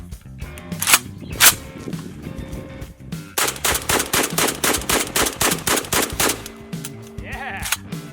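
A shotgun loaded with birdshot fires outdoors: two loud separate blasts, a pause, then a rapid string of about ten evenly spaced shots, each close, sharp and echoing, ending with a faint bleat-like sound.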